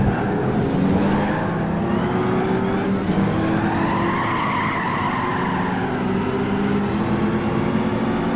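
A Buick Special in Gran Turismo 5 spins its wheels, giving a loud, sustained tire squeal over a steady roaring engine for the whole stretch, with no talking.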